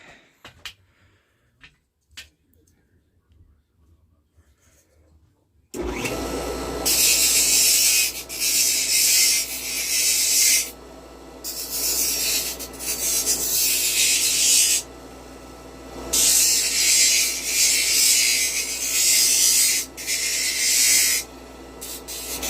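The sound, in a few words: rounding a rib on a Miracle Wheel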